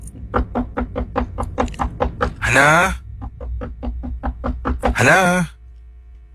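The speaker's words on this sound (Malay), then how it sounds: "Pintu ditutup. Kakak ketuk." Knuckles rap on a closed front door of a neighbouring house in two quick, steady series of sharp knocks, each run followed by a loud voice calling out, close and clear against a quiet background.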